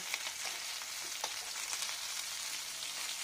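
Rohu fish pieces frying in a pan at low heat make a continuous close sizzle with light bubbling crackles throughout and no voices.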